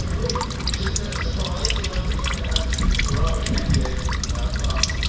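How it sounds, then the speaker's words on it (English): Engine oil dripping and trickling from the drain of a 2023 Cadillac Escalade during an oil change, a close, continuous patter of drops and splashes into a pan, with someone talking over it. "We're gonna let it drip. We're gonna try to twist it by hand until some of the oil starts dripping out."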